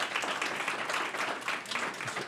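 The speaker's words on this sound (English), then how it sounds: "round of applause for our musicians?" Audience applauding musicians at an artist forum in the Adirondacks, a short dense burst of many hands clapping at close range.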